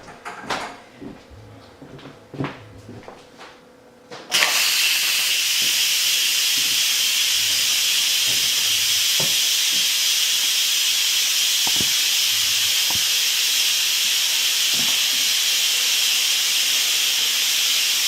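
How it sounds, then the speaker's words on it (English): Steam vents from an Instant Pot pressure cooker making ham and bean soup: a loud, steady hiss bursts on after a few seconds of faint kitchen sounds and then roars on unbroken, with light clicks and knocks beneath it. "so we're gonna vent the steam"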